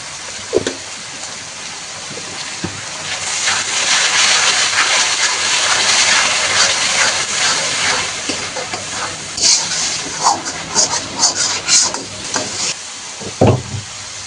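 Spice paste of salt, turmeric and dried chili powder frying for a fish curry, a loud continuous sizzle and hiss filling the pan, with spatula scrapes and clinks growing more frequent toward the end.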